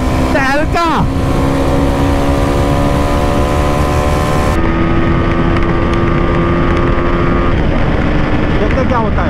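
Motorcycles including a Bajaj Dominar and a Royal Enfield Shotgun 650 racing on a road, engines loud and close under heavy wind rush, with a rev burst at the start and someone talking over it.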